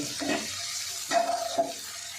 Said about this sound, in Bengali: যেহেতু চিংড়ি মাছটা কাঁচা, এই জন্য একটু ভেজে নিতে হবে